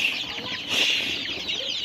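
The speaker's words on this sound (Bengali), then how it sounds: "দেখেন আমার মুরগিগুলো" Chickens clucking steadily at feeding time on a farm with local desi and mixed-breed birds, a dense close flock chatter running the whole time with a brief louder burst midway.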